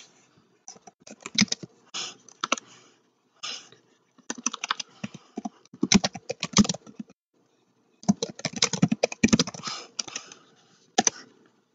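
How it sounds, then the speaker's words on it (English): Computer keyboard typing in irregular bursts of quick clicks separated by short pauses, close and fairly quiet, with no talking. "I'll type it out too."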